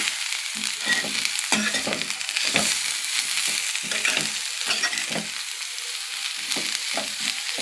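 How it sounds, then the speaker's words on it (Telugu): Cabbage and fresh coconut stir-fry sizzles in a pan while a spatula scrapes and stirs in short, repeated strokes, close by, with a steady frying hiss underneath and no voices. "ఐదు నిమిషాలు అయింది ఒకసారి తిప్పుదాము"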